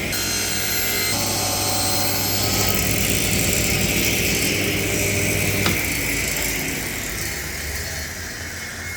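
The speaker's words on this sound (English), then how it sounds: "I'll just do it up on my table saw." A table saw at home cuts scribed wooden trim. A loud, continuous motor whine and cutting roar fills the whole stretch, with a slight shift partway through and a gradual easing near the end. No talk.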